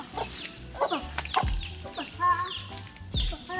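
A chicken rescued from the sea clucks repeatedly at close range in short, irregular bursts, with some rustling and handling noise between calls.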